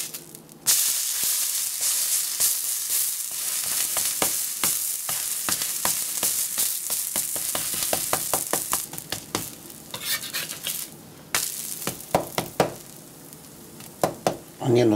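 Dosa sizzles loudly in ghee on a hot griddle under a constant frying hiss, while quick scraping and tapping spatula strokes stack up into a dense rhythm that loosens toward the end.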